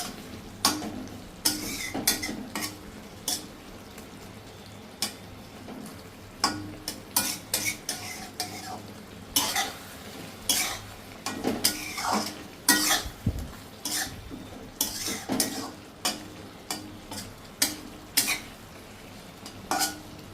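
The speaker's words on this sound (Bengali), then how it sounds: "রান্নাটা কিন্তু লো ফ্লেমে করতে হবে" A mustard mutton dish cooks in a pan on a low flame, with a faint steady simmer under repeated clinks and scrapes of a spoon stirring against metal at close range, no voices.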